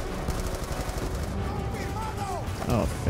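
Sniper gunfire cracks in a Call of Duty Black Ops 2 battle, scattered shots in a busy game mix with someone talking over it.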